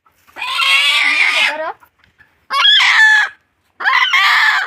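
A rooster crows loudly three times up close, with short pauses between the calls.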